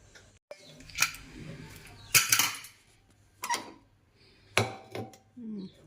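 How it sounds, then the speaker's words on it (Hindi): A pressure cooker lid is opened after boiling carrots in a home kitchen, giving several separate metallic clanks and clicks spread across a few seconds, with quiet gaps between them. "अब कुकर खोल कर देखती हूँ, गाजर उबाल ली थी तो 2-3 सीटी लग गई।"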